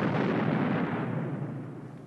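A Panzerfaust anti-tank weapon fired during a British demonstration, a single loud, deep blast whose rumble fills the whole clip and slowly fades with no break.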